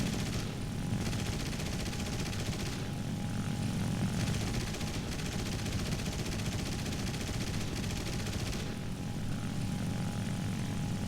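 A propeller fighter engine drones loud and steady in a War Thunder realistic battle involving a USMC F4U-1a Corsair and a Ki-61-Ib, with rapid machine-gun bursts rattling through the roar in several short stretches.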